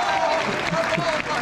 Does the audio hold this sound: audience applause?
yes